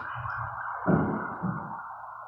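An odd, warbling siren wails at a distance, steady and faint, with a low rumble swelling briefly underneath.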